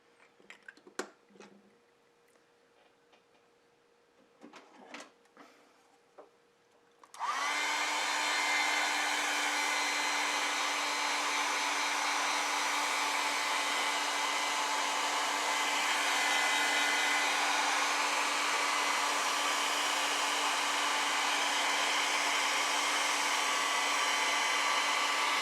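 A hair dryer switches on after several seconds of quiet, faint handling noises, then blows loudly and steadily at close range to dry a watercolor and ink sketchbook painting, with no voices.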